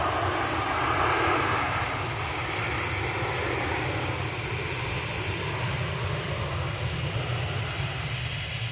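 An RAF Envoy IV aircraft departs, giving a steady, fairly loud engine roar with a broad hiss that stays even from start to finish, heard from nearby with no speech.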